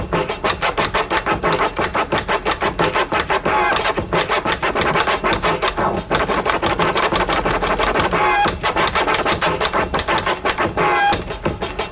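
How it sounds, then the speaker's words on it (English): A DJ performs chirp scratches on a vinyl record with the crossfader, a loud, continuous run of rapid, rhythmic scratching strokes with short breaks, alone without talk. "this scratch is called the chirp"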